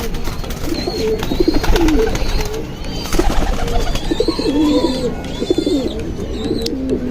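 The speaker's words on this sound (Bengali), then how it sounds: "বাবুল ভাই আপনার কবুতরগুলো তো মাশাআল্লাহ দেখতে খুব সুন্দর।" Silver pigeons coo repeatedly in soft, rolling bursts, close by, with a few higher chirps and light background noise.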